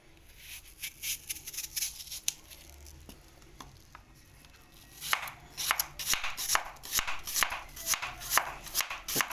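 A knife chops apples on a board for fruit chaat, faint scattered taps at first, then a quicker, louder run of close, crisp strikes near the end.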